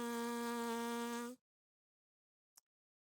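A trumpeter's lips free buzzing on a low C, a steady pure-toned buzz held for just over a second and then stopping, followed by a brief faint tick.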